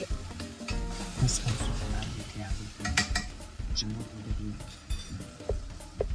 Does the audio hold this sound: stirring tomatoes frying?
yes